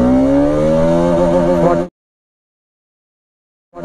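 Bajaj Pulsar RS 200 BS6 motorcycle accelerating hard in first gear, a loud rising engine whine climbing in pitch for about two seconds before cutting abruptly to silence.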